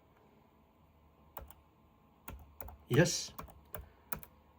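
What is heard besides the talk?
typing on a laptop keyboard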